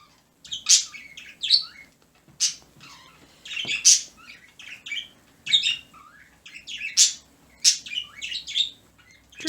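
Small birds chirp and tweet in repeated bright bursts, close and fairly loud, with short gaps of near silence between the calls and no voices.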